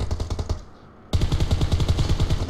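Cover fire in a video game: rapid bursts of automatic gunfire rattle loudly, break off into a short lull, then resume as a steady, fast stream of shots.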